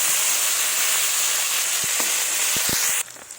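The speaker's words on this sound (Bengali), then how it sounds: "এবার এটাকে তেলে ভেজে নেব। লাল লাল করে একটু করে ভেজে নেব।" Cauliflower pieces frying in oil, a steady close sizzle with a few light clicks of stirring, then the sizzle cuts away abruptly near the end.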